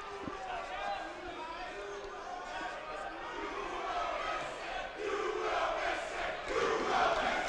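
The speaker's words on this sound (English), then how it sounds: "Yes, the rowdy crowd is alive." Rowdy crowd at a women's college basketball game between Snow College and Utah State University-Eastern, cheering and shouting around a free throw, a broad roar that swells toward the end under a commentator's voice.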